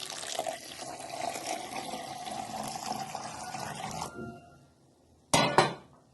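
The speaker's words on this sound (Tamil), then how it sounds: "பாலை காய்ச்சி ஆற வச்சு இந்த மிக்சியில் ஆட் பண்ணுது." Boiled, cooled milk pours into a mixer jar for carrot juice as a steady liquid stream over about four seconds, fading out, followed by a brief, bright clink of a pot or jar.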